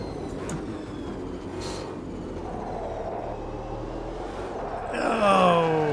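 Race car engine in the Automobilista 2 sim racing game, a steady low droning rumble through a lap that rises into a louder, higher revving whine near the end, with no talk over it.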